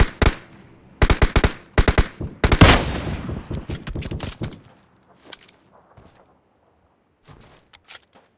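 Rapid bursts of automatic gunfire in PUBG Mobile, several sharp volleys in the first five seconds followed by scattered fainter shots, close and loud.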